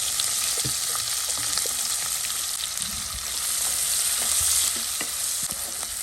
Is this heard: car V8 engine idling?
no